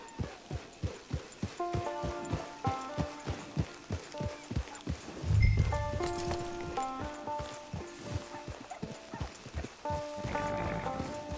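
Horse hooves in the Red Dead Online video game, a steady run of clip-clop beats over a bed of soft music, with a brief louder thump midway and no talking.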